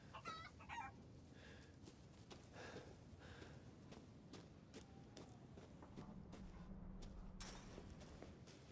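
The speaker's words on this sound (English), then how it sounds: "I hear chicken." Chickens cluck faintly in the video game Resident Evil Village, scattered short calls over a low game-ambience background, distant and soft.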